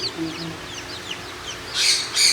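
Young chicks peeping in a run of short, thin, high chirps, followed near the end by a couple of louder, harsher bird calls, with faint background noise.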